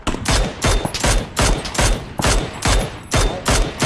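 Loud, close bursts of automatic gunfire in PUBG, seven or eight rapid volleys in a steady rhythm with short pauses between, filling the clip and heard alone without talking.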